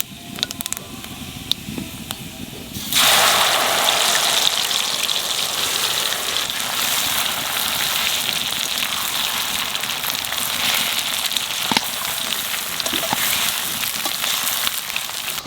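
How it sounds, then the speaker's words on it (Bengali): Elephant apple pieces and panch phoron dropped into hot oil, a sudden loud sizzle that settles into a steady, dense crackling fry continuing without pause. "তেলের মধ্যে দিয়ে দেবো কটা পাঁচফোড়ন, এইবার চালতে দিয়ে দেবো।"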